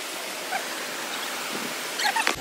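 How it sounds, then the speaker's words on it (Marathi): Steady rushing water at the Vazra waterfall forms a continuous broadband wash through the whole clip, with a few faint higher chirps and knocks near the end. "खूप छान असा आवाज येतोय पाण्याचा"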